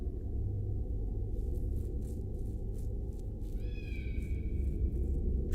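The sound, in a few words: kitten meowing in a video game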